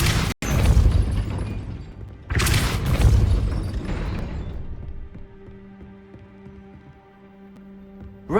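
Depulso spell cast in Hogwarts Legacy: a sudden heavy boom followed by a second forceful blast, rumbling and then fading into a quieter, ringing mechanical hum.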